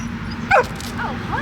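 Dog giving a single sharp yelping bark followed by soft whimpers, brief and fairly close against a low background hum.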